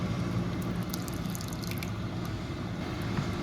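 Water swishes and drips in a glass marinara jar being rinsed out in a home kitchen, soft close sloshing with a few light splashy drips, no voices.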